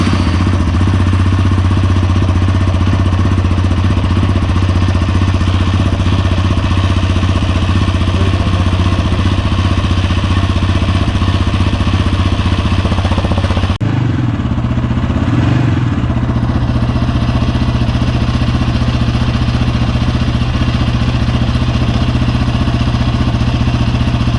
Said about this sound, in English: We're going to start up the motor to heat up the oil